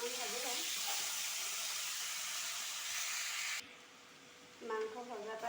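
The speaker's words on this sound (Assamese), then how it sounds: "মাংসখিনি অকণমান ভাজি লওঁ।" Meat frying in a pan for a home-cooked dish: a steady, moderately loud hiss and sizzle that drops away briefly, then returns, with a voice talking at the start and the end.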